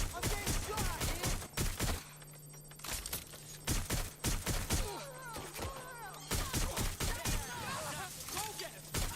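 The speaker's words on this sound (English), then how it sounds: "I'm getting shot at here!" Bursts of gunfire from the video game Watch Dogs Legion, rapid volleys and single shots cracking loudly in repeated clusters across the clip, with game voices shouting in between.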